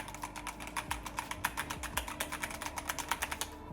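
Rapid, steady keystrokes on a gaming keyboard fitted with DIY-lubed switches, close and alone, with soft thocky clicks forming a continuous typing rhythm for a few seconds.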